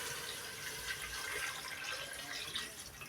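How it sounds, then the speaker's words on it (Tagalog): Water pours steadily into a cooking pot for pork sinigang, a continuous soft splashing rush that stays faint and even throughout, with no talking over it. "Lagyan natin ng tubig yan."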